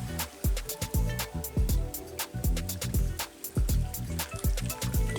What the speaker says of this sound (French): Et il y a de l'eau aussi qui s'écoule de cette cavité.